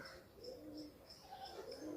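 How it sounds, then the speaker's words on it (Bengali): Madrasi pigeons coo softly in a repeated low, throaty rhythm, faint and somewhat distant over a light background hiss. "তো বন্ধুরা চলো পরের কবুতর তোমাদেরকে শখ করাই"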